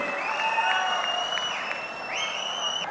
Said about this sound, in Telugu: గట్టిగా చప్పట్లు కొట్టి మనస్ఫూర్తిగా అభినందించండి ఆశీర్వదించండి